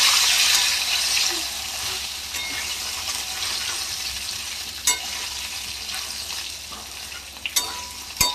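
Potato pieces frying in oil in a pan for a fish curry, a steady, fairly loud sizzle with a few sharp clicks and scrapes of stirring near the end.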